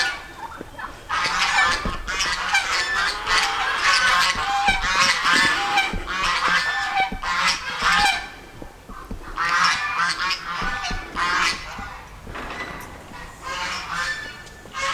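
A flock of birds honks and cackles loudly and continuously, overlapping calls with brief pauses, like geese and fowl clamoring nearby.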